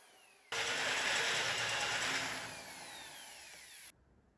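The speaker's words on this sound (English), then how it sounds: "Then drill large holes for mounting the table." Power drill boring a large hole in a metal cart frame, one steady loud whine of about three and a half seconds that eases slightly toward the end, then stops.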